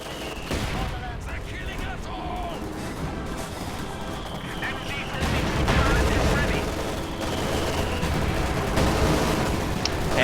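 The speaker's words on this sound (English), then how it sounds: "Mortar firing." A Soviet mortar fires in a Soviet-versus-SS war video game amid constant battlefield noise, with booms and crackling gunfire layered over a dense roar and a narrator speaking over it.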